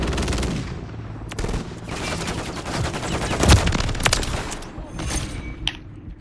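Automatic gunfire from the WSP Swarm fired with a 100-round drum in Modern Warfare 3, dense continuous bursts with brief pauses, loud and close throughout.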